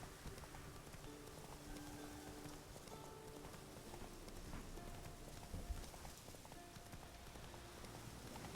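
Horse hooves clip-clop at a steady trotting rhythm in The Witcher 3 video game, faint and even, set against a soft rain-like background hiss with no speech.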